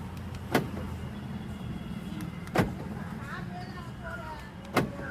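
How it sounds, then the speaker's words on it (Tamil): A car's central locking answers a remote key with three sharp, clean clunks spaced about two seconds apart, heard over a low steady hum of the surroundings. "லாக் அன்லாக்லாம் பர்ஃபெக்டாக ஒர்க் ஆகுது"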